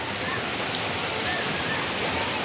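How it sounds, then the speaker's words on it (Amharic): Steady rain falls nearby, a dense even hiss of drops hitting surfaces with no pauses. "ከስንት ጊዜ በኋላ ነው ዝናብ የዘነበው"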